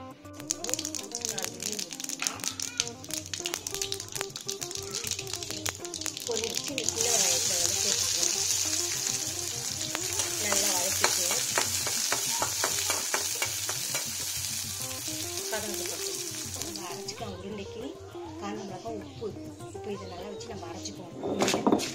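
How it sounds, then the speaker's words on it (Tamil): Mustard seeds fry in sesame oil in a kadai for paruppu urundai kuzhambu, making a bright, busy sizzle with crackling that swells and then fades near the end, while a person talks over it. "கடாயில் இப்போ நல்லெண்ணெய் ஊற்றிட்டு கடுகு போட்டுப்போம்"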